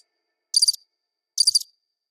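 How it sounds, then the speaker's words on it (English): Two short, high-pitched cricket chirps, each a quick trill, separated by silence, clean and isolated like a sound effect. "I don't want to hear any crickets."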